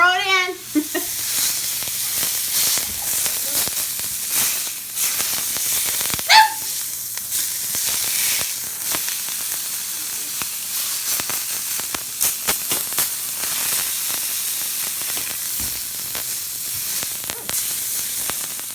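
Beef pot roast sizzling and hissing as it browns in a pan, a steady broad frying hiss running the whole way at moderate level, with brief clinks and a short voice near the start.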